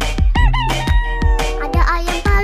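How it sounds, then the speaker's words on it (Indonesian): A rooster crows loudly and close, several sharp cock-a-doodle-doo calls in quick succession with pulsing, harmonic tones over about two seconds, no talking. "ternyata ini ayam jago"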